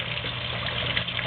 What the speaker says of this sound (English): the pump is now cycling, it's draining the water